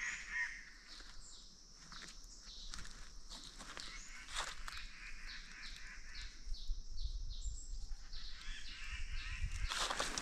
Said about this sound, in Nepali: रुफस ट्रिपाई